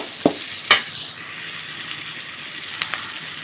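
Onions frying in a pan for a chicken salt curry, with a steady sizzle running throughout and a few sharp stirring clinks near the start and end.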